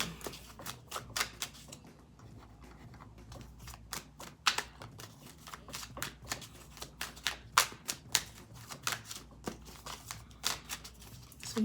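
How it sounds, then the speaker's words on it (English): Crisp, rapid riffling bursts of tarot cards being shuffled, close up, coming in irregular clusters of sharp snaps with brief pauses between. "let's kind of do a shuffle and pull and see what we get"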